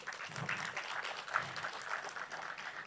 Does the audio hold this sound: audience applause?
yes